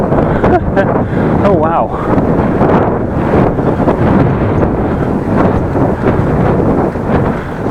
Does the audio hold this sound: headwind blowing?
yes